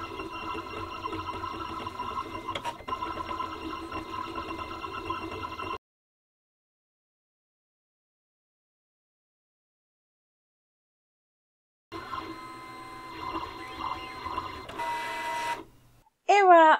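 Siser Juliet cutting machine working in print and cut mode, giving soft mechanical whirring and steady motor hum in two passes separated by several seconds of silence, with a faint click and a voice briefly at the end.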